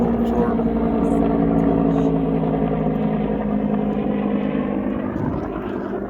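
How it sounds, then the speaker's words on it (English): A Huey military helicopter flies overhead outdoors, its steady, throbbing rotor drone loud and continuous before fading slightly toward the end. "Oh, it's a Huey."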